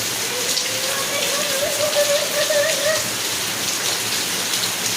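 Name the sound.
rain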